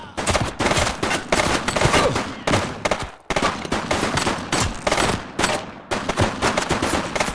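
Rapid bursts of gunfire in The Precinct police video game during a gang raid, several back-to-back volleys of close, loud shots separated by brief pauses.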